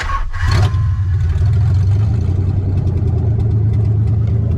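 A 1990 Nissan 300ZX engine fitted with a new MAF sensor cranks briefly and catches, then settles into a loud, close, low rumbling idle with a slightly uneven beat from a cold miss.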